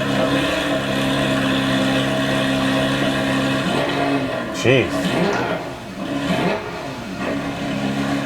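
A GT3 sports car engine fires up and idles with a steady harmonic drone and a brief rev blip midway, heard close, with a person talking over it.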